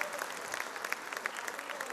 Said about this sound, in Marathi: जोरदार टाळ्या वाजवून आमच्या या विद्यार्थ्यांना